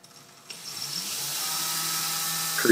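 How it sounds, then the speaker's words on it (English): A power drill whirs up after a brief pause and runs steadily at close range, pre-drilling holes in wood for number 3 screws, its motor pitch holding level with a faint rise near the end. "Pre-drilling for the little number 3-inch screws, or number 3 screws."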